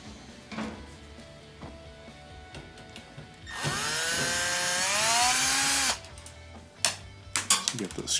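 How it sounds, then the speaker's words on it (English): Power screwdriver backing screws out of a washing machine fill valve: a loud, close whirring burst rising in pitch for about two seconds, bracketed by quieter handling clicks and knocks. "So get those screws out."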